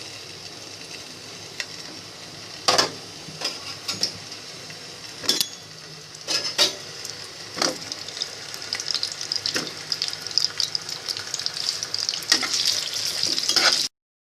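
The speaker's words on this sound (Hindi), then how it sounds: "हमने पैन में घी ले लिया है कोफ्ते फ्राई करने के लिए। अब हम इसमें कोफ्ते रखते जाएंगे।" Beef koftas frying in ghee in a pan, a steady sizzle that builds louder toward the end, broken by sharp clicks and taps of the koftas being placed and moved.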